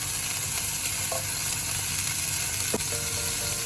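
Ginger garlic paste and two green chilies sautéing in butter in a pan, a steady close sizzle that holds throughout, with a couple of faint utensil scrapes and no voices.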